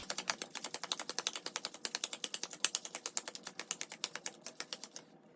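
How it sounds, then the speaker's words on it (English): Playing cards are dealt one by one into four piles on a table, a fast, even train of crisp close-up snaps repeating dozens of times before trailing off. "we're gonna deal the cards into 4 piles"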